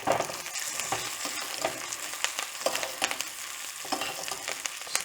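A NY strip steak sears in a cast iron skillet with a close, continuous crackling sizzle broken by repeated scraping and clattering strokes, and no voices.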